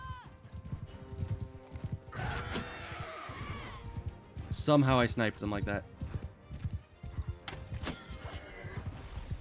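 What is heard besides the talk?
horse hooves in video game Mount and Blade II: Bannerlord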